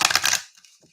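A deck of playing cards is riffle-shuffled up close, a dense fluttering burst of card edges that stops abruptly, followed by faint handling noise.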